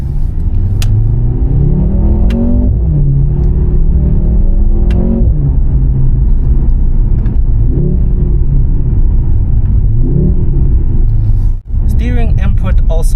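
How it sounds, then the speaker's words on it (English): A Mercedes-AMG C43 engine drones and swells through several revving sweeps, with occasional sharp exhaust cracks and pops, heard from inside the car while someone talks over it. "this thing actually sounds so amazing. The cracks and pops you get from the exhaust."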